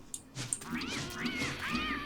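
Cats meowing in the video game Don't Starve Together, three rising-and-falling meows spaced about half a second apart over a low ambient game background, with a couple of short clicks at the start.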